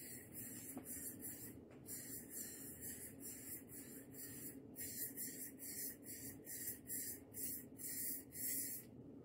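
A Forcefield shoe protector aerosol is sprayed in a series of short, close hissing bursts separated by brief pauses, quiet overall with no talk.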